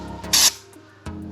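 A short burst from a spray can of rust treatment applied to a 79 Series Land Cruiser body, a brief loud hiss lasting a fraction of a second amid quiet workshop background.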